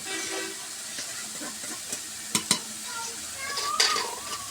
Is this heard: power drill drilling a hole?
no